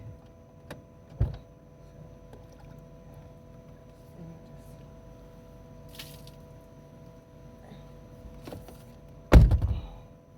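A heavy truck door, stuck and forced open, thuds and clunks loudly near the end after a few faint knocks and rattles, with low background hum throughout.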